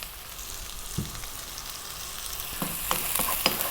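Vegetable fried rice sizzling in a pan over maximum heat, with a steady quiet frying hiss broken by a few light clicks and stirring scrapes.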